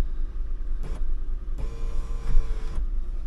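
Electric sunroof motor on a 2007 Lexus GX470 tilting open, a short whirring hum heard in two close bursts against a low idle rumble, with no voices.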